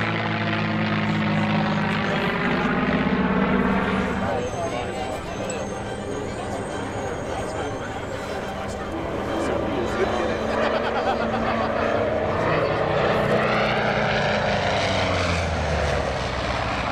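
Classic aircraft fly a pairs display of opposing and solo passes at Oshkosh, the engine drone swelling and fading with pitch shifts as the planes sweep past, while a commentator's voice carries over the top.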